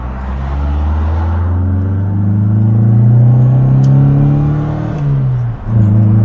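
A 1968 Toyota Corona with added power accelerates hard on a dual carriageway, its engine note climbing steadily through the revs, loud and close from inside the car, with a brief dip as it shifts before pulling again.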